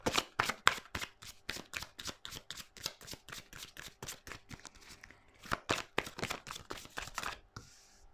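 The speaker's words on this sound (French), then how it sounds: "Veuillez vous faire sauter les cartes." Tarot cards are shuffled by hand at close range, giving a long run of quick rhythmic riffling slaps and flicks that continue steadily with a few brief pauses, with almost no talk.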